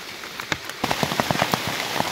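Rain patters steadily during a wet-season mushroom foraging trip in Thailand's Isan region, with a soft continuous hiss and scattered close droplet taps that grow busier toward the end.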